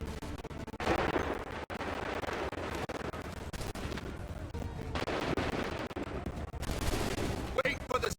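Musket volleys in the Assassin's Creed 3 video game ring out as several loud, rolling bursts of gunfire that crackle and overlap, separated by brief lulls.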